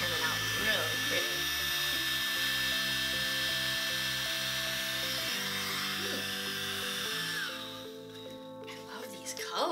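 A small mini blower whirs steadily at close range, pushing wet acrylic paint across a surface, its high motor whine holding nearly constant before cutting off near the end.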